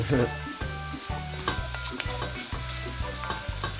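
Saltfish sizzles and crackles steadily in a frying pan for a Rasta-style Jamaican okra and saltfish dinner, with repeated soft stirring scrapes every half second or so throughout.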